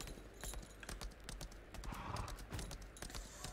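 A horse mount trots in the video game Lost Ark, with faint, rhythmic hoof clip-clops repeating quickly and evenly over a quiet game soundscape.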